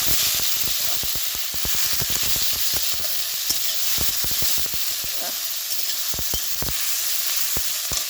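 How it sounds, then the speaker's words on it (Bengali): Taro stolons sauté in a very hot pan: a steady, loud sizzle with frequent sharp scraping clicks from stirring throughout. "তারপর এগুলোকে একসঙ্গে কষে নেব।"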